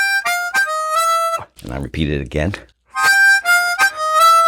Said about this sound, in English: Then I go to 6, 10 draw octave, and then 6, 10 draw octave with the button in